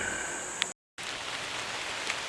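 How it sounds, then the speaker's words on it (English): Steady rain falls through late-summer woods in the afternoon, a dense even hiss of drops on leaves with a brief gap partway through and a couple of faint clicks, no voices. "It's raining. Hear these woods."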